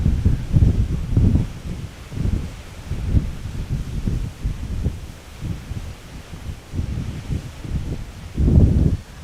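Strong gusting wind buffets the microphone outdoors at an airport, rumbling in low, uneven bursts throughout with a heavier gust near the end, no voices.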